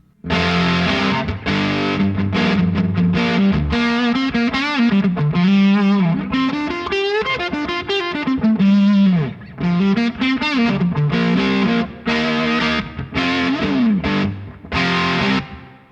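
A crunchy, overdriven electric guitar through an Electro-Harmonix MIG-50 amp at roughly three-quarter volume plays a loose bluesy riff with bends and chords, loud and upfront, with brief pauses between phrases.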